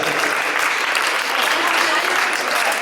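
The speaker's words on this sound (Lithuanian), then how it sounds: "Plojimai." Dense, steady applause from a crowd, many hands clapping at once without pause.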